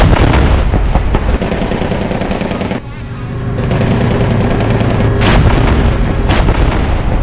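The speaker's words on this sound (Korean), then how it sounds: "우리 군이 장애물 지대에 봉착하면 아파치 헬기, K9 자주포, K2 전차가 엄호 사격을 실시합니다" Heavy sustained cover fire from an Apache helicopter, K9 self-propelled howitzers and K2 tanks at a combined live-fire exercise: dense, loud rolling bursts of gunfire and booming artillery, almost continuous with a brief dip midway.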